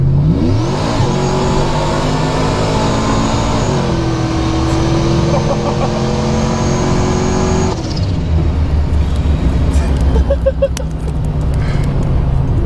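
A supercharged Chevrolet Trailblazer accelerates hard, its engine climbing loudly through the revs, dropping at a shift and pulling up again, heard close from inside the vehicle.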